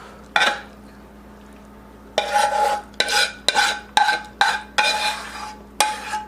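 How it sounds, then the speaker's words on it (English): Gluten-free macaroni and cheese with ham is scraped and smoothed into a greased 2-quart baking dish with a utensil, giving one early scrape, a pause, then six or so close, steady scraping strokes with no talk. "Make sure you scrape all that good cheese. Just kind of smooth it out on top."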